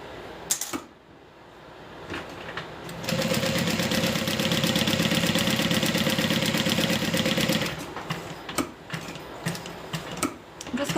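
Sewing machine stitching a curved seam on a Colette garment, running in a fast rapid-fire buzz of stitches for about five seconds, framed by quieter handling taps and clicks before and after, fairly close with no talk.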